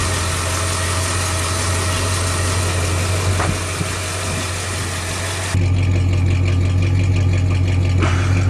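The engine of a 1935 Mercedes replica idles steadily, running smoothly with no valve tick. It gives a loud, constant low hum close up, and the tone shifts slightly partway through. No one speaks.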